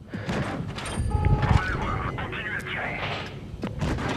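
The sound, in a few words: tank cannon shot in video game World of Tanks Blitz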